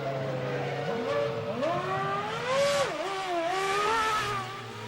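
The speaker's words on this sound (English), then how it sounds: "Rubens Barrichello sprints out of the pit lane after his final third pit stop" Formula One car at the 2001 Malaysia Grand Prix accelerating out of the pit lane, a high-pitched engine wail climbing through rising revs with gear changes, heard at moderate distance.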